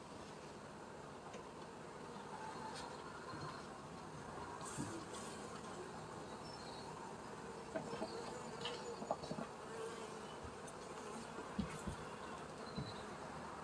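Honey bees around hives during a farm inspection make a continuous, dense buzzing drone close by, steady throughout, with occasional faint knocks and handling sounds.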